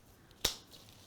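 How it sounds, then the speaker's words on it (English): A single short, crisp snip of scissors or floral cutters cutting through a greenery stem for a table centrepiece, close and fairly quiet against a near-silent room. "And then I'm going to cut the final stem"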